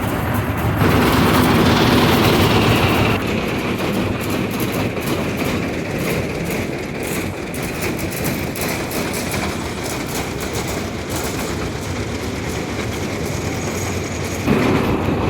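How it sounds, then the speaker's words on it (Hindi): A small toy train at Elephanta Caves pulls away with a loud, steady rattle and a clickety-clack rhythm that lasts throughout, close by and with no one speaking. "ये पीछे हमारी टॉय ट्रेन है। 15 रुपये इसका किराया है। ये चलने लग गई, देख सकते हो आप।"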